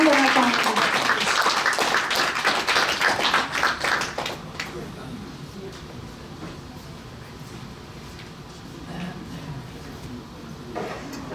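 Audience applause at a mushaira poetry gathering: dense clapping for about four seconds, then fading into quieter room murmur with scattered claps.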